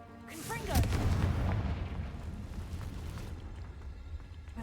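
Confringo fire blast spell cast in the video game Hogwarts Legacy, a loud booming whoosh that swells then rumbles and fades over a few seconds.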